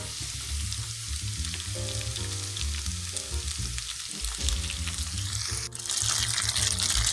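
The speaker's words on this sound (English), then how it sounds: "Now we're going to begin to add in our pasta." Bowtie pasta goes into a pan with butter and garlic and sizzles loudly and steadily, broken by scraping stir sounds, with a brief drop and a fresh surge of frying near the end.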